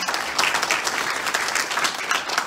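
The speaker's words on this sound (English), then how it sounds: "we just give God a hand clap once again" Congregation at a Sunday church service clapping hands together, a dense, steady round of applause filling the room.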